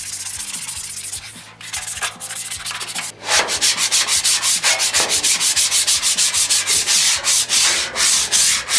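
A metal scraper works rust off the sides of a rusted flattop griddle in rapid, rhythmic rasping strokes, close and loud, with a brief pause before the strokes resume faster and steadier.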